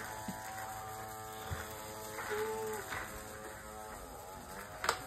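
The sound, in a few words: toy mouse-shaped vacuum cleaning playroom floor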